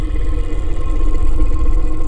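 A low car engine idles and rumbles steadily throughout, a continuous mechanical drone with no voices, in the PC game Burger & Frights.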